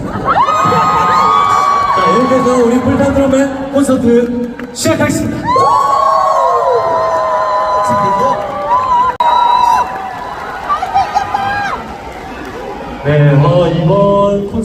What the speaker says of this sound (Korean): 큰 환호와 함성으로 맞이해주시면 감사하겠습니다